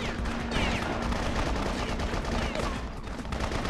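Gunfire in the Bloodrayne video game, a continuous dense barrage of shots and battle noise that keeps a steady loud level throughout, with no clear gaps.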